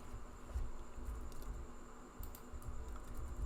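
Quiet, fairly steady typing on a computer keyboard, with soft scattered key taps over a low background hum and no voices.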